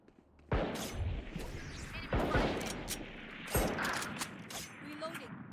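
Gunfire in the video game Valorant: three sharp bursts spaced a second or so apart, each a loud crack trailing into mechanical rattles and clicks, with quieter game sounds between.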